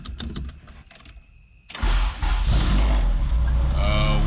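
An Acura Integra engine is cranked. A few seconds of faint clicks and whirring give way to the engine catching and roaring into a loud, steady idle, with a person speaking over it.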